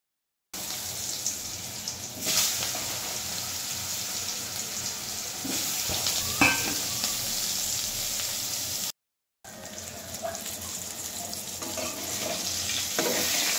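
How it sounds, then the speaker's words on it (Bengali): Pointed gourd (potol) frying in a pan, a steady loud sizzle that runs on continuously with a brief break partway through and no talking. "পটল ভাজা হয়ে গেছে"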